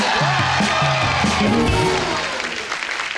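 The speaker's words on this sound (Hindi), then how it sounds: "जोरदार ताली हो जाए हमारे शो।" Studio audience applause on The Kapil Sharma Show rising over music, loud and sustained at first, then thinning toward the end.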